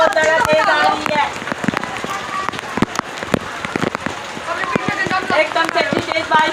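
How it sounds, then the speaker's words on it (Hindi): Heavy rain patters and drums steadily on surfaces, with sharp drip impacts, while a person talks over it. "एकदम से इतनी तेज बारिश हुई है।"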